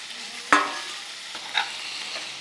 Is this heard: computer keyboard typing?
no